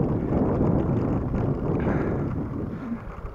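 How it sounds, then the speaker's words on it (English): Strong wind buffeting the microphone during an outdoor ride on a Trek FX 3 bicycle on a sunny day, a loud continuous low rumble with gusts that ease slightly toward the end, no talking. "the wind could stop blowing"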